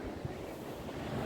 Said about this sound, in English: look at those waves coming out of the ocean, the sound